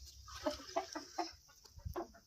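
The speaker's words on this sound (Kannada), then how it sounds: "ನೋಡಿ ನಮ್ಮ ಕೋಳಿ" A chicken clucks close by in a quick series of short, soft clucks, with quiet outdoor ambience around it.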